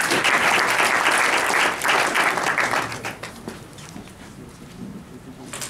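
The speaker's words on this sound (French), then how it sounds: "On l'applaudit aussi chaleureusement." A French startup-event audience applauds warmly in a loud, dense burst for roughly three seconds, then the clapping thins and dies away into a quieter room.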